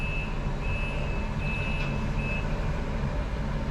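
A bus reverses nearby, its warning beeper sounding four evenly spaced high beeps over the loud, steady rumble of its idling diesel engine.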